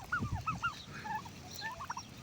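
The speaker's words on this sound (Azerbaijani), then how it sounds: "Hinduşkalar hara gedirəm yanındadır" Domestic turkeys gobble close by in a yard, a quick burst of several warbling rattling calls followed by scattered softer gobbles and chirps, fairly quiet and without speech.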